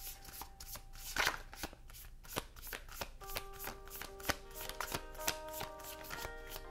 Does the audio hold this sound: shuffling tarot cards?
yes